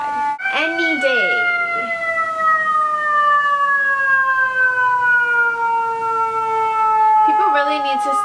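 A fire engine siren wails steadily outside, a loud sustained tone sliding slowly downward as it passes, with someone talking over the start and end.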